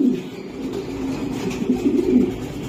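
Racer pigeons cooing nearby in soft, low, rolling murmurs that overlap continuously, with no talking.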